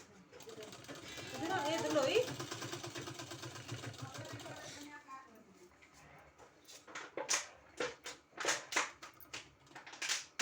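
A sewing machine stitches a suit collar in a fast, steady mechanical whir, then short bursts of stitching alternate with pauses.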